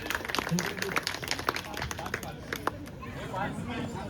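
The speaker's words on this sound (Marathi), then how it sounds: "जोरदार टाळ्या झाल्या पाहिजेत." Audience applause and cheering at a Marathi village game show, scattered claps mixed with crowd chatter and voices in a lively hall.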